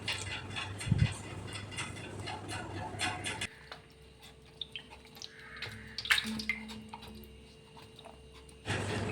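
Steady running water pours in from a stream, with scattered drips and splashes; the flow is louder at the start and end, quieter in the middle.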